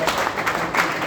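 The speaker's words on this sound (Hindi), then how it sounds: "सर के लिए जोरदार तालियां।" An audience claps in a meeting hall at Ambedkar Bhavan in Dadar East, with a brief burst of applause that fills the room over a low murmur of voices.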